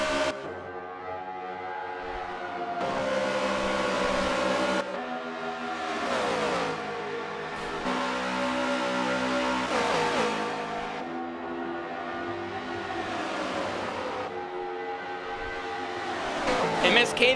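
Race cars in a three-car battle for the lead roar past in repeated loud passes, engines rising and falling in pitch as each car sweeps by.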